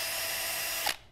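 A cordless power drill whirs at a steady high pitch while its trigger is held, then winds down quickly when the trigger is released near the end. No one speaks.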